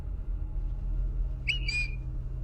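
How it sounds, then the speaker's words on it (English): A man whistling, picked up by a home security webcam outdoors: a single short, faint rising whistle with a sliding tone, set against a steady low background hum. "Is he whistling?"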